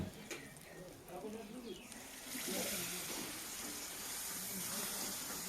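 Vegetables stir-fried in a pan with a splash of water, hissing and sizzling steadily at close range, the sizzle swelling louder partway through and holding as a broad, continuous hiss.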